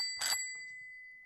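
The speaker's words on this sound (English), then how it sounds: "our staff will ring the bell in the 2 situations" A staff member strikes a bell once to mark pitch time at a demo day, a single bright ring with a long, clear sustained tone that fades slowly.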